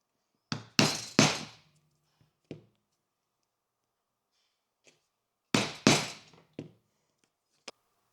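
Sharp, loud tool strikes on leather as it is stitch marked for stitching holes while combining leather and rope, falling in two bursts of three or four knocks with a few fainter taps between, with no talk.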